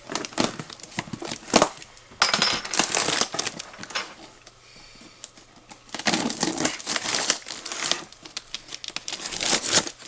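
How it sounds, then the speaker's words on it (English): A taped cardboard box holding an airsoft gun is torn open, giving loud bursts of crinkling, tape ripping and cardboard crushing with a quieter pause in the middle. "let's go ahead and open the box and see what's inside."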